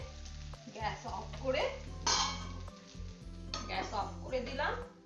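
A metal lid comes off a pot of vegetable chop filling, with the gas switched off after a resting time. Clanks of cookware, a soft sizzle and scraping stir sounds mix with a steady low hum in a home kitchen.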